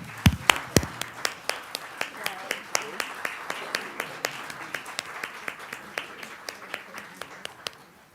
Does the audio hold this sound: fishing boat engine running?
no